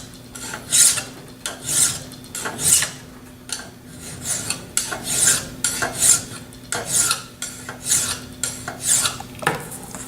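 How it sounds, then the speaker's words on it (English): A metal file being cleaned, probably brushed with a file card, gives a steady run of short raspy scraping strokes, close and moderately loud, with no voices. "Then it's time to clean the file."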